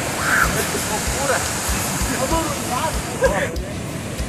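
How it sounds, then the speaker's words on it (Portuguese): A waterfall near Praia das Lajes makes a loud, continuous broadband rush of falling water that fills the whole clip, with faint voices mixed in underneath. "aqui pega bastante a cachoeira"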